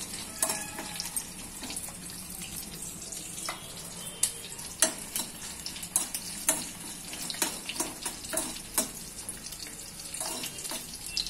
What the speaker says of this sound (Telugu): ఫ్రై అయినాక ఈలోగా కొంచెం ఫ్రై చేస్తున్నాను